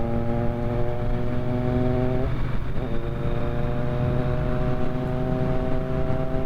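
A Triumph Bonneville T100 motorcycle exhaust rumbles steadily nearby, a deep throbbing idle with a brief blip of revs midway before settling back into the same even pulse.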